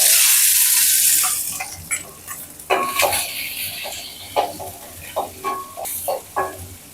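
Fenugreek seeds, small shallots and garlic hit hot oil in a pan with a loud initial burst of sizzling. The frying then settles into a quieter crackle, broken by repeated stirring scrapes.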